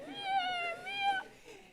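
A person imitates a cat's meow, a single long wavering mew with a rising then falling pitch, close and fairly soft, heard alone.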